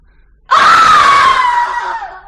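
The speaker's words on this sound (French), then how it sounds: "elle l'en retira avec un de ces cris, comme elle en poussait quelquefois, qui traversaient l'épaisseur des murs" A woman gives a single long, piercing scream during a dramatized French reading of a 1980 Barbey d'Aurevilly story. The cry bursts in loud and close after a brief silence, holds its pitch, then slowly fades.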